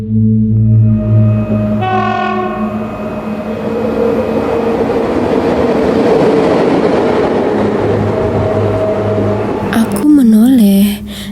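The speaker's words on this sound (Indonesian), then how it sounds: "sekilas terlihat sebuah gerbong melaju di rel itu melintas begitu saja" A train rumbles steadily along the rails with a long horn blast near the start, and a brief warbling tone near the end.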